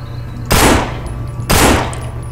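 Two loud, sharp gunshots about a second apart in the zombie shooter game No More Room In Hell, each a close, booming blast with a short decay over a low background hum.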